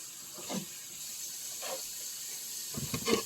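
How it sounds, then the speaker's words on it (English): A kitchen tap runs steadily while peppers are rinsed, a soft continuous hiss with faint splashes and clunks as the peppers are handled. "Alright, I'm rinsing the peppers."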